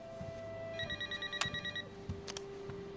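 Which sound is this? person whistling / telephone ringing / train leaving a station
telephone ringing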